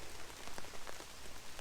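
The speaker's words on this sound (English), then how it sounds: "Like having live rain as opposed to the recorded rain" Live rain pattering steadily on a hammock camp tarp, a dense close hiss of drops with no voices.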